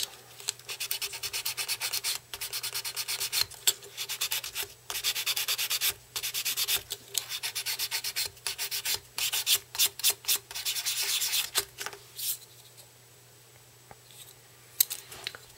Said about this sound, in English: I'd still just go ahead and lightly sand it just to make sure there are no rough edges.